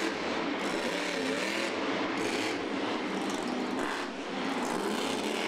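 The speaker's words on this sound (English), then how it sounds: "listening to the zoomy exhaust on that unique horsepowered motor" A loud, continuous monster truck engine roar with a broad rushing exhaust tone at a Monster Jam show in the Mercedes-Benz Superdome, New Orleans, steady throughout with a brief dip near the end, no voices.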